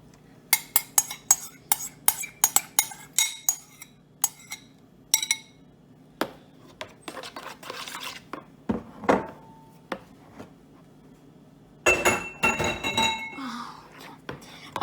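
Egg and honey go into a bowl and are mixed while making egg bread: a run of sharp clinks and taps from a utensil against the bowl, then scattered knocks, scraping and a louder stretch of stirring near the end.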